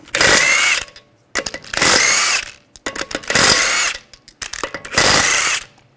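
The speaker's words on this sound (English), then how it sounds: "take the lug bolts out" A power tool fitted with a 17mm socket spins lug bolts off the front wheel of a 2009-2010 BMW 535i xDrive. Four loud, close whirring bursts, each about a second long, are separated by short pauses with small clicks.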